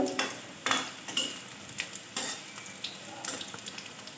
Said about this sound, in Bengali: আমার ভাজা হয়ে গেল সব কাটলেটগুলো